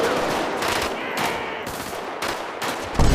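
Rifle fire in a video game comes as several sharp shots, spaced roughly half a second to a second apart, loud and close over a busy game background.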